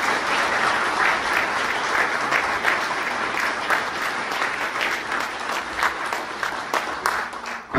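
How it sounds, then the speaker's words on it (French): Steady, dense applause from a cabaret audience, loud and close, with many hands clapping continuously and no break. "Les applaudissements, s'il vous plaît."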